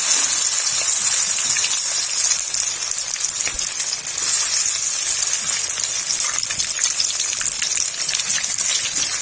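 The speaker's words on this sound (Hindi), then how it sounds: "ऐसे ऑयल गरम हो गया। अब इसके अंदर हम इस तरह से चिकन ऐड कर देंगे।" Chicken pieces fry in hot oil for a Manchurian dish, giving a steady, dense, close crackling sizzle with scattered pops throughout and no talking.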